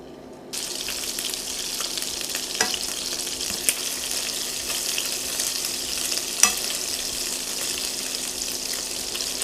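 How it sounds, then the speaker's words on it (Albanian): Pasta and minced meat balls sizzle in hot fat, a steady dense crackling hiss that starts abruptly and holds at a close, loud level with occasional small pops, no talking. "këto do hidhen në yndyrë të nxehtë"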